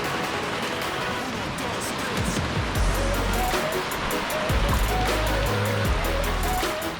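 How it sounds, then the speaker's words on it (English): Small waterfall trickling and splashing onto a beach near Playa Blanca, Costa Rica, a steady broadband rush of flowing water with surf-like texture, fairly close and continuous throughout, with low rumbling bursts mixed in. "Found a mini waterfall."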